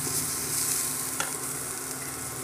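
Red aval (flattened rice) upma being stirred in a pan, a steady close sizzle and scraping under a constant frying hiss with one brief spoon knock, no talking.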